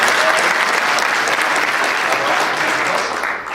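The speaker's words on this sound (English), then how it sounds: "So applause" A school district audience gives a warm round of applause at a morning gathering, steady dense clapping from a large crowd that stays even before easing slightly at the end.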